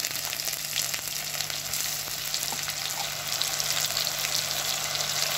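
Onion and ginger-garlic paste frying in a pan, a steady close sizzle with faint crackles and occasional stirring, alone with no voices.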